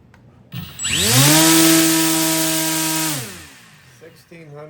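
An RC motor spins an 11.5-inch 3D printed two-blade folding propeller, rising quickly to a loud steady whining buzz, holding for about two seconds, then spinning down, with brief talk before and after.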